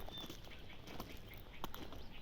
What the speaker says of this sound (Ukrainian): Ну, слухаєш спів пташок